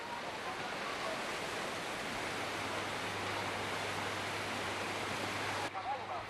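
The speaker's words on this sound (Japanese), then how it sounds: "津波が海に向かって引いていく。" Tsunami water in Japan recedes toward the sea as a dense, continuous rushing roar, steady and loud throughout, with a faint low rumble underneath and a brief disturbance near the end.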